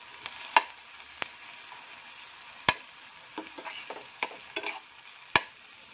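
Garlic and onion frying in a pan while being stirred, a quiet low sizzle broken by sharp scattered clicks and scrapes of the utensil against the pan.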